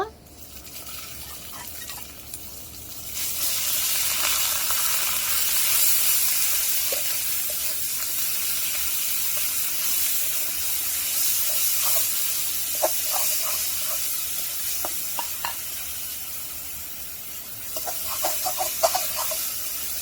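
Onion paste goes into hot oil for mustard hilsa curry, setting off a steady hissing sizzle that holds throughout with a few small clinks near the end.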